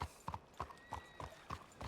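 A horse walks with steady, evenly spaced clip-clop hoofbeats in a Red Dead roleplay video game, about six close, moderately loud steps with no talking.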